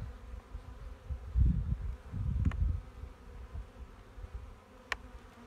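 A low, close hum of honeybees rises and falls over an opened hive during a late-winter February inspection, with two brief sharp clicks breaking the drone and no speech.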